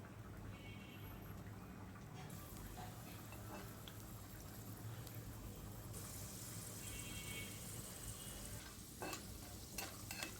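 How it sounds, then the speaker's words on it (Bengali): Potatoes fry on low flame in oil in a frying pan, a soft, steady sizzle running throughout with occasional stirring clatter near the end. "এরপরে আমি আলুগুলো একে একে দিয়ে একদম লো ফ্লেমে উল্টিয়ে পাল্টিয়ে ভালো মতো ভেজে নেব"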